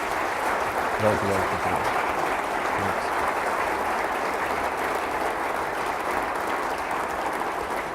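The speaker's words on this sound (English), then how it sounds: "Let's give him a round of applause for his efforts." A university staff all-hands meeting audience gives a round of applause, a broad, continuous clapping texture filling the room for several seconds, with a brief spoken word near the start over the clapping.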